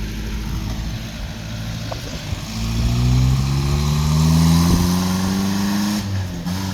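A truck engine revs up while driving, its loud, close drone climbing steadily in pitch and then levelling off, with no talk.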